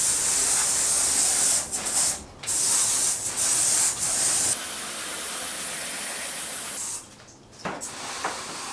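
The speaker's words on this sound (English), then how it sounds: "I also took my air gun and blew air through both of the front sunroof drains" An air gun blasts compressed air through the front sunroof drains of a Porsche 996 in loud, sustained hissing bursts, with brief pauses between them and a steadier stretch in the middle.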